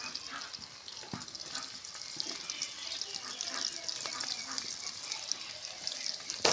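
Chopped onion and garlic sizzle in a pan with bay leaf and cinnamon, a steady close hiss of frying with occasional stirring scrapes and clinks.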